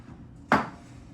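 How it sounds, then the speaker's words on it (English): A single short burst of cooking spray hisses once onto a 13 by 9 inch glass baking dish, then quiet room tone returns. "Don't forget to spray your glass dish, 13 by 9 inch"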